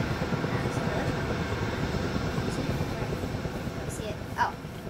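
A helicopter in a military role-play video game, its rotor and engine drone holding steady and fairly loud from start to finish, with a short brighter swell near the end.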